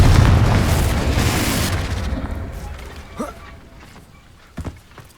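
A Confringo blast erupts in Hogwarts Legacy, a loud booming burst that rumbles and fades over a few seconds, followed by a couple of sharp smaller cracks and creaks.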